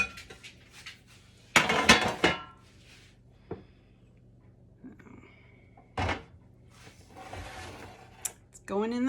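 Kitchen clatter as a full pie dish is set on a metal baking sheet and put into the oven: clanks and clinks of dishware and metal, a sharp bang later on, with someone talking in between.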